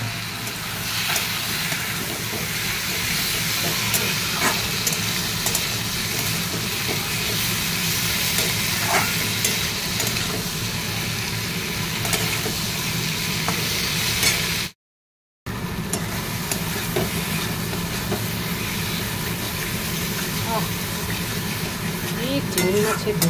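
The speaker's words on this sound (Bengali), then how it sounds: "আমি সবজি ভাজা বানাবো চিংড়ি মাছে, পেঁয়াজগুলো দিয়ে দিই।" Onions sizzling in a pan as the base for a prawn and vegetable fry, a steady broad frying hiss throughout with occasional stirring clinks and a brief dropout partway.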